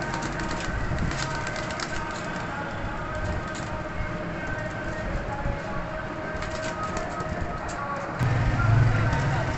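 Ferozepuri pigeons coo softly at a bird seller's in Faisalabad. The low calls sit under a steady wash of background noise.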